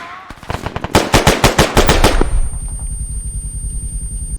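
Exchange of gunfire in the video game ARMA 3: a rapid burst of a dozen or so sharp, loud automatic shots, then a quieter, stuttering run of distant rounds, a thin high tone ringing over the tail.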